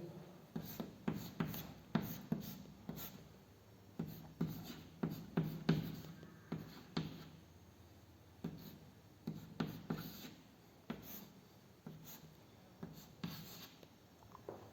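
Chalk or marker writing a chemistry resonance structure on a classroom board: steady rhythmic scratching and tapping strokes in bursts, fairly close and moderately quiet, with no talking.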